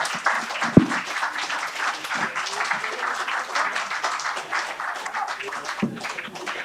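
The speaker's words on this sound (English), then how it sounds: "big round of applause for Vic" Sustained applause and cheering from a comedy club audience after a stand-up set, a dense, even roar of clapping throughout, with a couple of sharp bumps near the microphone.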